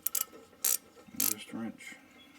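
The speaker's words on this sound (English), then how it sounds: "In this case, I'm going to use a ratchet wrench." A hand ratchet wrench turns the caliper bracket bolts on a 2016 Subaru Crosstrek during a rear brake job, giving short bursts of rapid close clicking separated by brief pauses and faint mechanical rattles.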